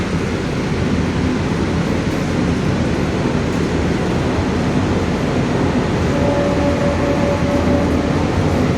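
Inside an air-conditioned EMU train stopped at a station, a steady loud rumble of the carriage and machinery hums on, with a faint tonal whine near the end and no clear voices.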